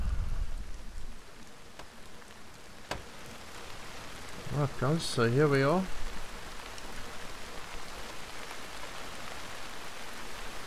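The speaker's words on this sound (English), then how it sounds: "This rain will help us." Steady rain falls in the military game Arma 3, a soft continuous hiss throughout, with someone talking briefly in the middle.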